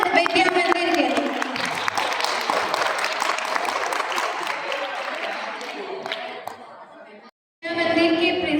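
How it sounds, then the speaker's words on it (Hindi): Students clap loudly and steadily at a school event at Vivekanand Vidya Mandir Inter College in Pithoragarh, dense applause filling the hall before fading and briefly cutting out, then resuming. "सभी विद्यार्थियों से निवेदन रहेगा कि एक बार जोरदार तालियां बजाएंगे विवेकानंद विद्या मंदिर के लिए"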